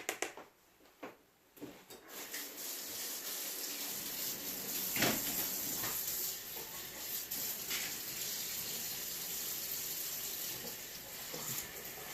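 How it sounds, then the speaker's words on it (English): Lukewarm water running from a tap to top up a pot for dyeing devoré silk scarves, a steady gushing pour after a few brief clunks, continuous and fairly close. "I'm going to top it off with some more lukewarm water"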